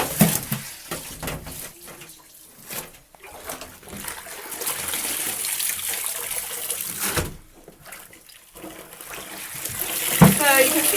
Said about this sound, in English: I take out my plunger. I just put my clothes in the wash tub